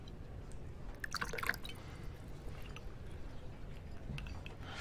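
A drink is poured at a bar in Resident Evil 6, a faint, soft trickle and drip of liquid with a brief splashy burst early on over a quiet background.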